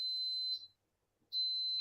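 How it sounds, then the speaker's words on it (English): A rice maker gives high, shrill electronic beeps in two bursts separated by a short silence, clear and fairly close in a quiet indoor room. "That's my rice maker."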